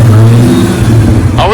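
A Foxbody restomod with a Terminator swap rumbles and accelerates, its engine tone loud and close and steadily climbing in pitch, with a voice briefly audible near the end.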